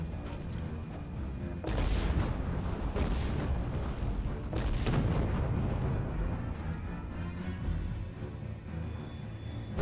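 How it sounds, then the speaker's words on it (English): Heavy naval cannon and torpedo fire in the space-sailing battle game Treasure Planet: Battle at Procyon, a series of loud booming launches and impacts over continuous rumbling battle noise. "Torpedoes away!"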